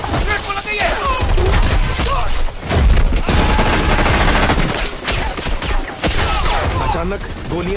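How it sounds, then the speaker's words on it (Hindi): Dense, rapid bursts of gunfire crackle continuously in a Bollywood film scene, loud and close, with overlapping shots and sharp cracks throughout. "अचानक गोलियां बरसने लगी।"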